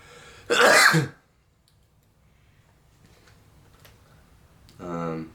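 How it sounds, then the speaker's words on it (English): One sharp, forceful sneeze bursts out near the start. A quiet stretch follows, then a person begins speaking. "I'm about to sneeze"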